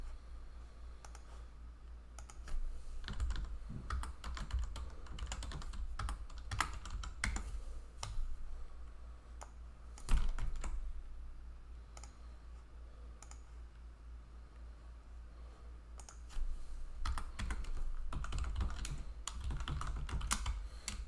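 A computer keyboard is typed on in irregular bursts of light clicking keystrokes, close and fairly quiet over a low steady hum, with short pauses between runs of keys while a command is entered, and no talk.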